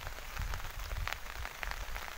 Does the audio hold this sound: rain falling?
yes